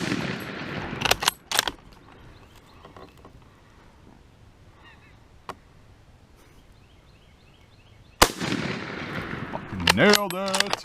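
Two sharp rifle shots from an M98/29 Persian Mauser ring out outdoors, one near the start and one around the middle of the clip, each with a short echo, separated by quiet and faint background noise, with a voice and rustling near the end.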